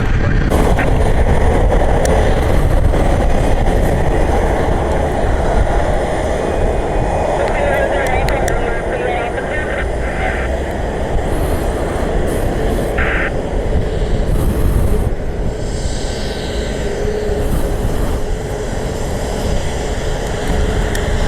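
A Southwest jet airliner arriving at Columbus rumbles steadily nearby, a loud continuous roar of engines with brief higher whines mixed in.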